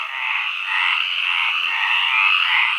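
A dense chorus of Iberian tree frogs in water at night croaks and trills continuously, loud and close, with no other sounds.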